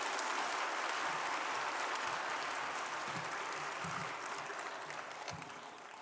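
A church congregation claps warmly to welcome the pastor, a dense, steady round of applause that fades slightly toward the end.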